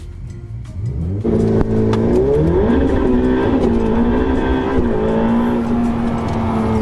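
A car, apparently racing a Ferrari, is driven hard to warm its tyres; a loud, close engine revs and accelerates steadily, its pitch rising and holding high with faint tyre noise, no talk.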